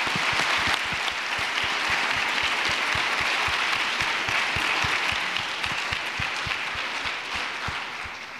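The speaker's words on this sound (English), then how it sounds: "I know we all join together with an incredible round of applause." Audience at a teen vigil in a synagogue breaks into steady, sustained applause, many hands clapping evenly throughout and fading slightly at the close.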